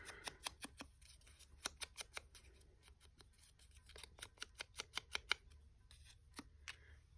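Scissors snipping out art doll pieces, a quick run of sharp, close blade clicks in uneven bursts with short pauses, crisp and fairly quiet over a low background hum.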